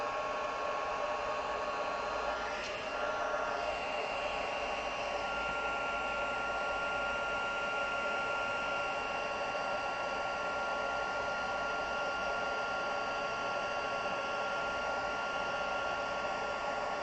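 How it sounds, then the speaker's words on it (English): A heat gun blows a steady, loud airflow roar while heat embossing a sentiment on a craft project, running unbroken and close with no speech. "I'm going to double heat emboss my sentiment"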